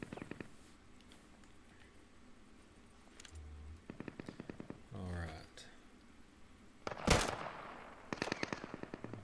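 Gunfire in the video game Deadside: several rapid bursts of automatic shots, sharp and fairly close, spaced between quieter stretches, with one louder blast near the end and a voice talking briefly.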